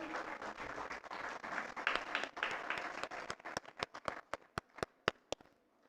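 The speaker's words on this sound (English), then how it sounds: "Can we please clap for them as they walk up on stage?" Audience clapping at a graduation ceremony, a moderate burst of applause from a crowd that thins to a few slow, distinct individual claps before ending.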